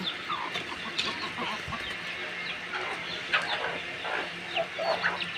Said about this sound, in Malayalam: കോഴി അതെ ടർക്കിയൊക്കെ അവിടെ ഉണ്ട്.